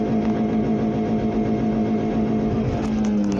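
The engine of a 626 car with an upgraded gearbox pulls hard in first gear during a top-speed test, a loud continuous close-up drone with a strong steady hum that shifts slightly toward the end.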